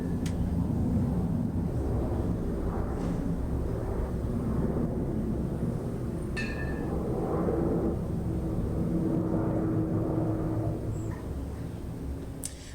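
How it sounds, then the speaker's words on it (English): An airplane passes overhead as a steady, broad rumble that fills the whole stretch, fairly loud and constant, with a few faint brief background sounds and no talking. "There's a plane."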